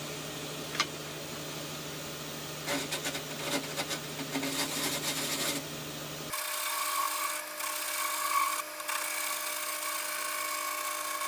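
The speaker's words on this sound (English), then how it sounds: "So it's going to clean this up now with the skewer chisel." Skew chisel cutting wood on a lathe while turning a multi-axis rolling pin; a steady scraping, rasping cut runs throughout, shifting to a brighter, harsher tone partway through as the tool engages differently, with no talk.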